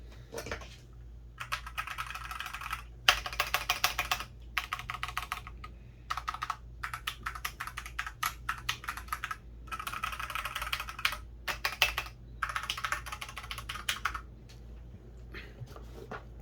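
Bursts of rapid clicky typing on a KEBOHUB EE01 keyboard separated by short pauses, close and crisp over a faint low hum, with no talking.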